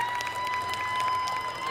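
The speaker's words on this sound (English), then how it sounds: "Everybody give her a real big round of applause" A crowd at an outdoor No Kings protest in Denton, North Texas applauds steadily, a dense wash of clapping with a faint whistle-like tone running underneath, no voices standing out.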